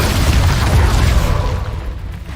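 The Expulso explosion spell goes off in Hogwarts Legacy as a deep booming blast that rumbles and then decays over about two seconds, loud and close, with no voices.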